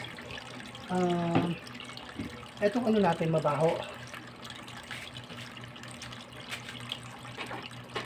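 Water flows steadily from a hose or tap while a catfish pond's water is being changed, a continuous low splashing gurgle heard close, with someone speaking over it in short bursts.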